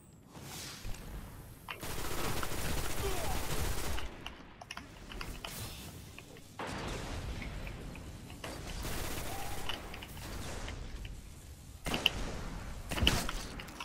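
Bursts of video game gunfire from a Destiny Trials match, loud dense volleys in several stretches with short gaps between, with rapid repeated shots and a few sharp single cracks near the end.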